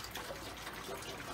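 Clear rust remover poured into a VW Super Beetle fuel tank, a steady close-up trickle and splash of liquid running into the metal tank.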